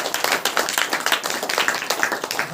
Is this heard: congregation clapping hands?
yes